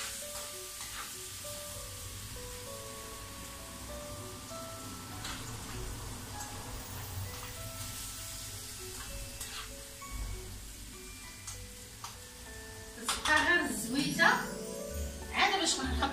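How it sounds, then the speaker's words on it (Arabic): Fish fries in oil in a pan with a steady, close sizzle, while a voice talks throughout and louder clattering and stirring break in near the end. "غادي نمشيو نشوفوا المقله ديالنا الحوت واشنو داير"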